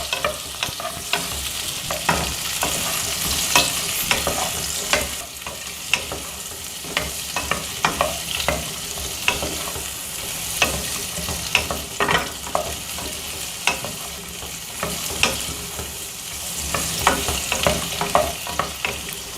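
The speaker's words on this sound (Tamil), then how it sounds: "எல்லாத்தையும் போட்டு வதக்கலாம்." Garlic, green chili, red chili and curry leaves sauté in a pan with a constant hiss of oil and repeated scraping stirs, close and steady with no talk.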